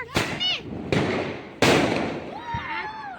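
Diwali firecrackers burst in three sharp, loud bangs spaced about a second apart, smoke spreading after a household celebration, with whistling crackle and excited voices between blasts.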